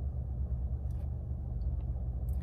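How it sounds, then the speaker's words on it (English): A car idles nearby as it pulls to a stop, giving a low steady engine rumble with no talking. "this car's just like stopping right here"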